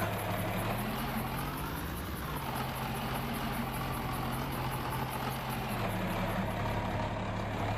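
A John Deere tractor engine idles steadily nearby, a continuous low diesel rumble with a constant tone and no talk over it.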